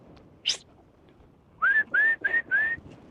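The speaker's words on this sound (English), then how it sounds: "Just a whistle." A person whistles on an open hilltop walk to call a dog, one short sharp chirp followed by four quick, loud, rising whistle notes close by.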